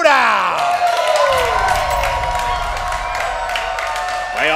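A studio crowd at a live movie trivia competition show applauds and cheers throughout, steady and fairly loud, under a swelling musical sting and a voice.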